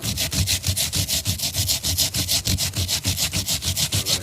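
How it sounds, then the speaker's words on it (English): Fresh Parmesan cheese rubbed against a cheese grater in quick, even strokes, a close rhythmic rasping repeated about twenty times with no voices. "we'll take our cheese grater and our fresh Parmesan"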